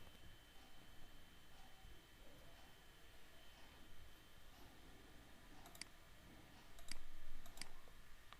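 A few sharp computer mouse clicks in a quiet room near the end, set against soft background hiss, with no talking.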